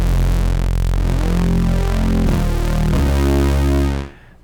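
Sustained FM synthesizer tone in Bitwig, a dense buzzing patch held steadily and loud with shifting harmonic texture, played alone before cutting off near the end.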